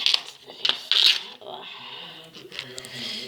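A container of white potato salad (baltoji mišrainė) being opened, several bright plastic clicks and crinkles up close, mixed with brief speech.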